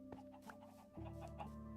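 Several Minecraft Bedrock chickens (RealismCraft pack) give short clucks in quick succession over a continuous low in-game hum, fairly close and with no voices.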